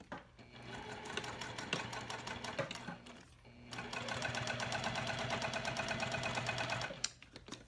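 A sewing machine stitches down a mini box tote in two steady runs of rapid, even needle clatter, with a short pause between them; the sound is close and fairly quiet.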